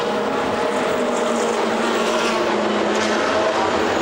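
A Porsche 997 GT3 Cup race car leaving the pits during a GT Open race at Monza, with a loud, steady engine roar that holds a sustained high drone throughout and no break.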